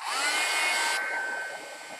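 Hair dryer blowing close up to dry all-purpose multi-surface satin paint, a steady whirring roar whose pitch and strength drop partway through as the airflow shifts, continuing alone without talk.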